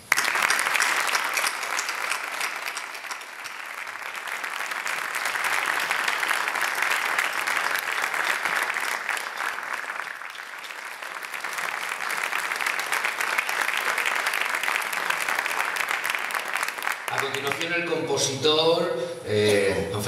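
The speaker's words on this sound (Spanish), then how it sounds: "Un fuerte aplauso" A sustained round of strong applause fills a hall at a cultural event of the Compañía de Armaos in Caravaca, swelling and dipping slightly over many seconds before a voice begins speaking at the close.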